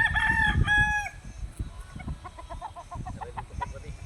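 A rooster kept for derby fighting crows loudly and close for about a second, then gives a run of rhythmic clucks and short calls that carry on to the end.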